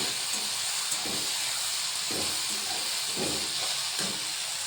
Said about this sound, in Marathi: भाजी शिजत आहे.